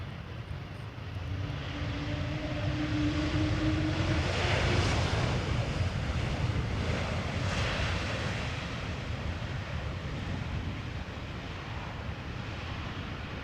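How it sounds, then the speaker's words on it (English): An Embraer E2 jet lands at Amsterdam Schiphol after a flight from Berlin, a steady broad engine roar close by that holds for the whole stretch, with a brief tonal whine early on and wind buffeting over it. "Now also almost there is the Embraer, the E2 Embraer. So let's have a look and see it land first."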